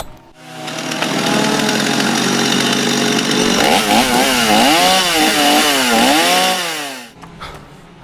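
A chainsaw cuts into wood for chainsaw carving, loud and close, with a sustained snarl that swoops up and down in pitch as the blade works the log before dropping off to idle.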